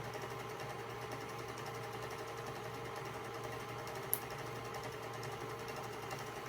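A sewing machine winds a bobbin at a constant speed, giving a faint, even mechanical whir with no change in pace and a single small click partway through.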